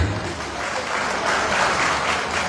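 Steady applause from a large political rally audience fills the space without pause, dense and fairly loud, with no single voice standing out.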